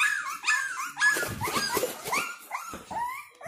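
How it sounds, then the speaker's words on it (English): Several Boston terrier and French bulldog cross puppies whimper and yip in a rising, overlapping chorus of high, thin cries as they wait to be fed, close by and fairly loud. "I got the puppies getting ready to feed them"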